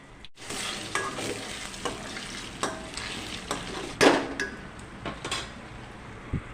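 Beaten eggs fry in a pan for egg fried rice, giving a soft continuous sizzle broken by frequent scraping stirs and a few sharp spatula knocks against the pan.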